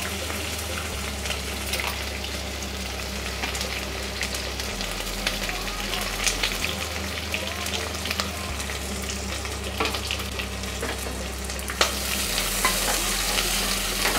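Three large onions, sliced long and thin, fry in oil in a pan for bagara rice, giving a steady close sizzle with stirring scrapes throughout and no talk.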